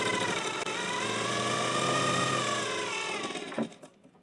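A tailor's sewing machine running continuously as it double-stitches a Sabyasachi-style blouse, a fast, even mechanical whir that holds for several seconds before stopping.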